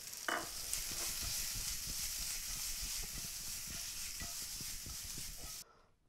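Chicken and ground spices with cayenne pepper and sugar sizzling and being stirred in a pan for chicken tikka masala, a continuous close frying hiss with small scraping clicks throughout, cutting off abruptly at the end.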